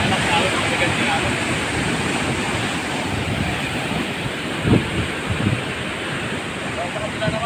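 Heavy ocean surf rolls in near Sulangan lighthouse on an exposed coast, a steady loud wash of big breaking waves with wind buffeting the microphone and a couple of brief louder knocks midway.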